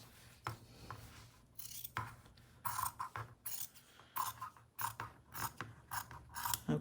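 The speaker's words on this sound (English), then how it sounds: "Okay, put those scissors away, Diane." Repeated crisp snips of scissors cutting through fabric, close up, in an uneven rhythm of several quick cuts with short pauses between.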